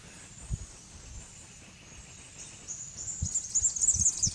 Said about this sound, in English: Bloody awesome to hear that bird song though this morning.